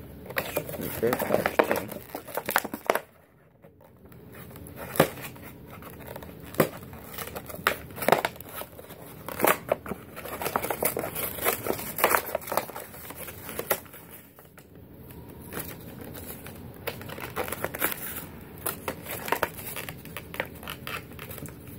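Plastic blister packaging of a Nintendo Greninja amiibo crinkles and crackles as it is pulled open, in repeated close bursts with short pauses, fairly quiet throughout.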